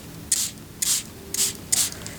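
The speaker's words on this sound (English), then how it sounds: "take a sprayer, a mini mister that has some water," A handheld mini mister sprayer fires four quick spritzes of water, each a short hissing burst with even gaps between, close and fairly loud in a quiet room.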